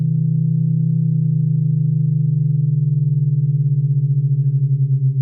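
Two steady pure tones sounding together, producing a pulsing beat that slows and swells toward the end.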